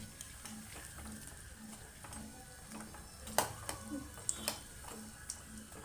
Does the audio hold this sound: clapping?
no